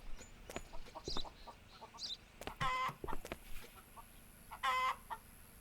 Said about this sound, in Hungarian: Csóró tyúkok itt